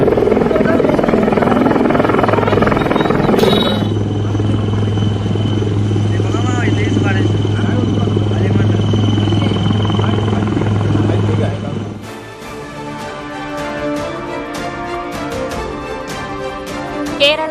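Helicopter rescuing flood victims in Maharashtra, a loud steady rotor and engine roar with a low hum, under a news announcer's voice that continues over a musical news sting near the end.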